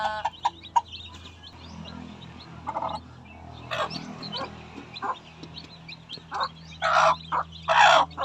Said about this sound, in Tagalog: ang cute naman ng mga sisiw